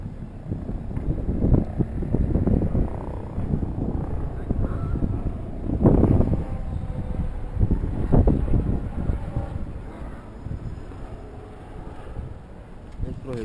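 Wind blowing outdoors near Amsterdam Central station under dark clouds, a steady broadband rush with gusts swelling around the middle, with traffic or street bustle mixed in.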